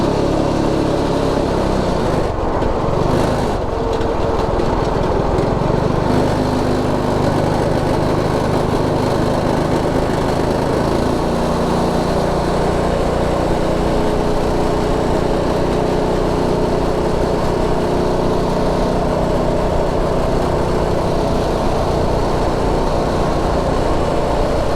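A Predator 212 Ghost small single-cylinder engine runs hard at top speed, a loud continuous buzzing drone that holds steady throughout without talk.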